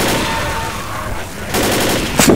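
Rapid gunfire in the Left 4 Dead video game, a loud continuous burst of shots right up close, with sharper blasts near the end.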